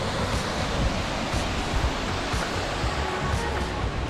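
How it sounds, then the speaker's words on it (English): A powerful waterfall on a hiking trail in Küsnacht, Switzerland, roars as a dense, unbroken rush of falling water close by, filling the whole moment with no voices. "As we get closer and closer to wrapping up this hike, the waterfalls get a little bit bigger,"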